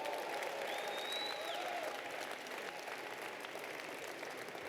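An audience at an LGBT Pride Month reception in the city claps steadily, a full, even patter of many hands throughout, with a faint whistle-like tone early on.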